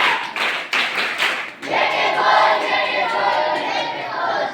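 Loud audience applause at a ceremony, a burst of clapping that briefly breaks off and then resumes as sustained, dense clapping from a crowd.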